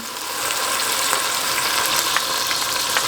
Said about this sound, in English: I like that sizzle.